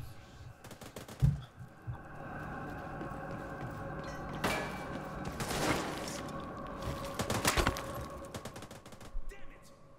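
M4 rifle fire in The Division 2 video game comes as rapid bursts of automatic shots and scattered single cracks, fairly quiet, mixed with other game sounds and a voice talking at times.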